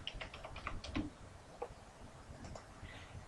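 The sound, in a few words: typing a password on a computer keyboard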